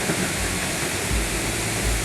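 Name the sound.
Multnomah Falls waterfall, water crashing down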